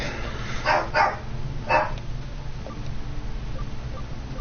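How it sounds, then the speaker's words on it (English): In the Digimon Story Cyber Sleuth game, the smallest dog gives a few sharp, yappy barks early on, heard over a steady low game hum with no talking. "Smallest dog is super upsetty."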